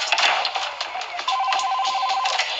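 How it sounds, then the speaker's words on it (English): A telephone rings indoors at home, a steady electronic ringing pulse repeating across the clip, loud and close, with a little background speech. "Oh, there's the phone."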